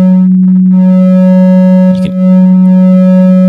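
A Psychic Modulation Phonec 2 software synthesizer plays a loud, steady sustained tone with its gain control adding saturation like gritty tube distortion, holding one note with a brief noisy blip partway through.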